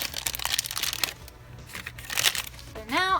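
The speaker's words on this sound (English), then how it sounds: "we can just take some scissors, cut it open like that, and get our Model Magic out of there" Scissors cut open a crinkly plastic package of Model Magic modeling clay, giving bursts of close crinkling and snipping before a voice speaks at the end.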